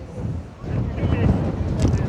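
Wind buffets the microphone in low, rushing gusts that swell and ease, with some faint background noise.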